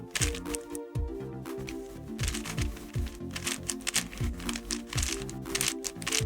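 An 8x8 Rubik's cube is twisted rapidly, producing a dense run of plastic clicks and rattling turns, close and continuous, with no talking over it.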